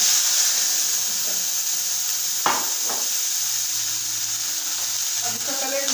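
Steady hiss of cumin seeds sizzling in hot oil for a tempering, loud and close, with a couple of brief clinks of a utensil midway.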